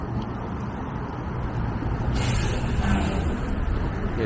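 An M15 city bus on 2nd Avenue in Manhattan passes nearby, its engine rumble swelling with a hiss of brakes or air over steady street traffic.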